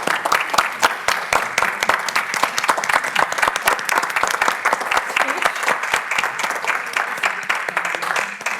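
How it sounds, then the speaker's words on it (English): A standing ovation at a board meeting: steady, dense applause from a room of people, loud and continuous, with a few voices faintly mixed in. "I'd like to suggest a standing ovation"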